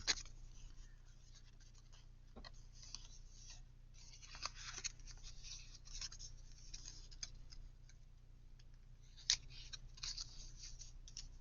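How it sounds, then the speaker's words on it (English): Scissors cut paper for a handmade Christmas journal, with soft scattered snips and scratchy rustles at close range, quiet overall, punctuated by a few sharper clicks. "I can just cut it here."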